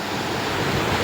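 Ocean waves roll and wash steadily at a seashore, a close, loud continuous surf roar mixed with wind buffeting the microphone.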